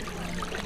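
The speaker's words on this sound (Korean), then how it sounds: "물소리." Water runs in a steady, full-bodied stream with a gentle splashing texture, continuous and fairly close.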